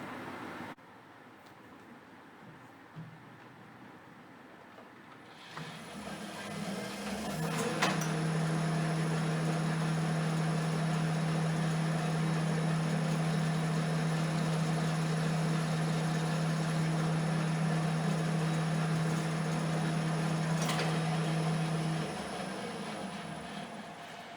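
A door handle part being chamfered on a machine, a steady loud grinding or cutting drone that runs for about fifteen seconds after a quieter lead-in, then eases off.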